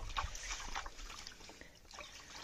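Tap water running and trickling as dishes are washed by hand at a home sink, a steady close splashing flow with small drips and clatter throughout.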